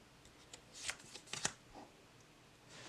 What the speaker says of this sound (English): I thought I shuffled this up pretty good.